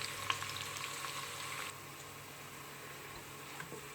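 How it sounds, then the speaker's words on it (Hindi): Onions frying in a pan, giving a soft, continuous hiss and crackle that is faint and steady, with a slight drop in level partway through. "प्याज को फ्राई करेंगे।"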